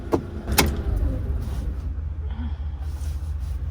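A camper van engine idles at a national park entrance in Yosemite, a steady low rumble running throughout, with a couple of sharp clicks or clunks near the start.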